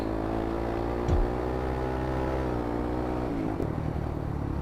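Motorcycle engine in GTA San Andreas held at a steady, loud rev with stacked harmonic tones, a brief throttle blip near the start and a shift in pitch toward the end.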